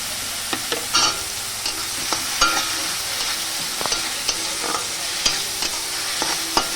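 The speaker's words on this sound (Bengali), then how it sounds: "ভালোভাবে এটা ভেজে নেব" Spice masala fries in a pan for a traditional fish and elephant foot yam dish, a loud continuous sizzle broken by repeated sharp spatula scrapes and taps against the pan, with no voices.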